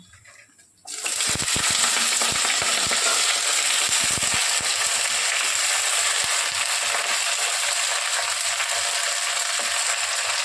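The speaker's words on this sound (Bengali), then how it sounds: "সর্ষেটা ফাটতে শুরু করবে তো তখন তা চারিদিকে ছড়িয়ে যাবে" Mustard seeds crackle and pop in hot oil in a pan of oil-cooked greens, starting abruptly after a brief quiet moment, then a dense, loud, steady sizzle with scattered sharp pops throughout.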